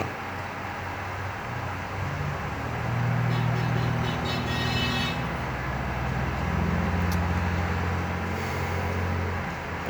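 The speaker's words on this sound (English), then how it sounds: "Traffic is very noisy here." Steady, loud traffic roar from a busy road fills the whole stretch, with low engine rumble swelling and easing and a faint horn-like tone appearing briefly, with no voices.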